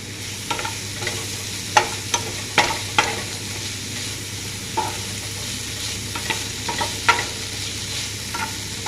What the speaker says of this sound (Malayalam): അതൊന്ന് വഴറ്റി വരുമ്പോൾ തന്നെ വേഗം മൊരിയുണ്ടാവുന്ന ഇങ്ങനെ വഴന്ന് കിട്ടിയാൽ മതി